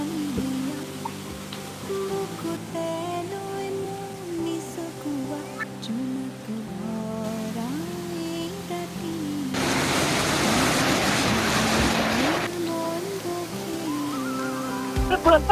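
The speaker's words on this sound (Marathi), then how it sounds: "आणि हा बघा वॉटरफॉल छोटासा" A small waterfall on a river where people bathe, a steady rushing wash of falling water that swells louder midway, heard under background music and voices.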